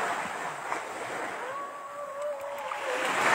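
Sea waves wash steadily onto a beach at Balud, Masbate, a broad continuous surf hiss with a thin whistling tone drifting through the middle, no voices.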